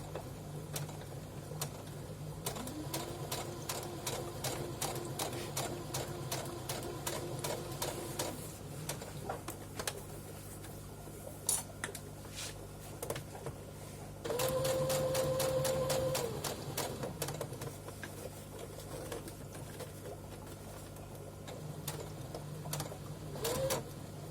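A sewing machine stitches a fabric seam for a scrunchie in rapid ticking bursts with short pauses and a brief whirring run partway through, close and moderately quiet.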